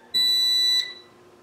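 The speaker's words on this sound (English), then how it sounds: "That was our driveway alarm." A newly installed driveway alarm gives one loud, piercing electronic beep lasting about two-thirds of a second, then cuts off, leaving quiet room noise.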